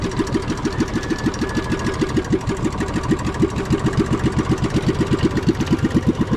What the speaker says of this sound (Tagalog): Itong ating makina ay 5 years na